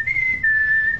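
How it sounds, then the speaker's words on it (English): A single sustained human whistle, clear and close, holding a steady pitch with a slight dip midway for about a second. "Whistle back."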